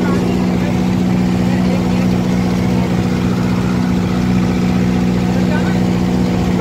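Kubota MU5502 tractor engine held at 2000 rpm with a rotor attached, a loud, steady mid-pitched diesel drone with continuous hum and no breaks, close by, with someone talking over it.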